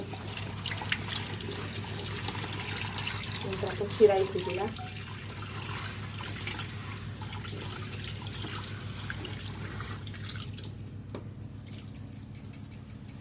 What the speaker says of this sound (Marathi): ती आपण स्वच्छ धुणार आहे आणि दोन तीनदा आपण पाणी घालून छान धुऊया